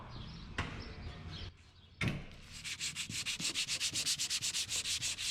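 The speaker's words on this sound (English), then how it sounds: "Sanding time, that's all." Hand sanding of a replacement car hood with sandpaper, heard as a burst of scraping and then a steady run of rapid rhythmic back-and-forth strokes, close and fairly loud.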